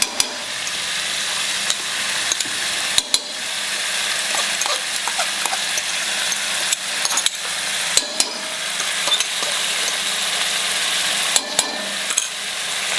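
Onion-based ground masala frying and being stirred in a pan over a low to medium flame for karela bhaji, a steady close sizzle broken by scattered clicks and scrapes of the spoon.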